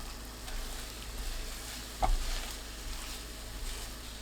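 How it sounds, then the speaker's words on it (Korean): Gentle, steady sizzling of eggs frying slowly in olive oil in a pan, with a brief knock of a utensil midway and soft stirring sounds. "올리브유 1큰술, 계란 넣습니다. 천천히 익혀주세요."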